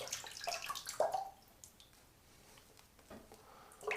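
Small splashes and drips of water being added to shave soap, with soft squishy lather sounds, quiet and close, with pauses between short bursts.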